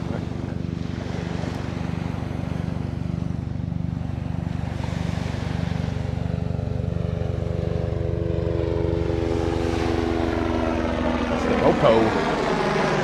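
A helicopter flying overhead at a beach makes a loud, steady droning engine and rotor hum throughout, with faint voices underneath.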